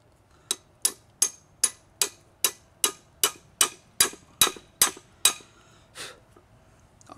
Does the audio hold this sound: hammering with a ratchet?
yes